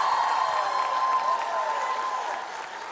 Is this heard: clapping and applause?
yes